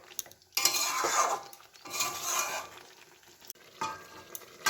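Chicken curry sautéing in a pot, with bursts of metal spoon scraping and clattering against the pan over a soft sizzle, coming in several separate stirring strokes with short pauses between.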